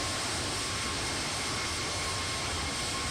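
Engine noise of an Airbus A320neo in the X-Plane 12 flight simulator, a steady broadband roar with a faint constant tone, continuous and unchanging throughout.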